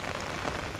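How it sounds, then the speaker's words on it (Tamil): Steady rain falls in a dense, even hiss of droplets on a hard surface, close and continuous with no voices. "பாருங்கள் எப்படி மழை பெய்யுது பாருங்கள்"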